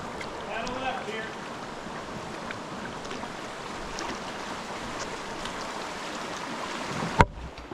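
Canoe paddling on a river during a camping trip, a continuous low rush of moving water and wind around the boat with soft splashes and a sharp knock near the end, close and moderately quiet.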